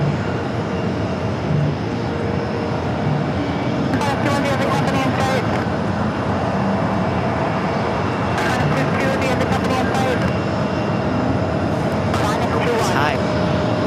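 A jet airliner arriving from Amsterdam at JFK makes a steady broadband roar that fills the scene throughout, with radio chatter and talk intermittently layered over it.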